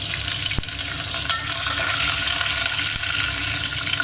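Peanuts and green chillies frying in hot oil with mustard and cumin seeds for poha, a dense continuous crackle with a couple of sharp stirring knocks, close and loud, no talk.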